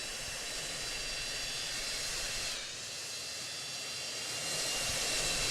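Boeing 777 jet engines in the Project Flight flight game, a steady loud roaring hiss that briefly dips in the middle and then swells again, with no voices.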